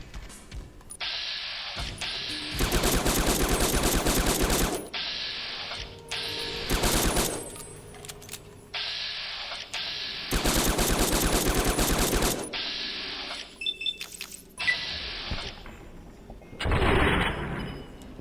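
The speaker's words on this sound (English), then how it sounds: "Might have to switch to the sniper rifle." Rifle fire in the video game Fallout New Vegas, near Hoover Dam: loud rapid bursts of shots in several separate volleys, close and sharp, with mechanical clicks and quieter gaps between them.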